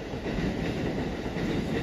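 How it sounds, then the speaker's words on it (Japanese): A red Sanyo Electric Railway train runs along the rails, giving a steady, loud rumble of wheels and car noise with no clear break for the whole stretch. "ああ、山陽電車行っちゃうんだ。"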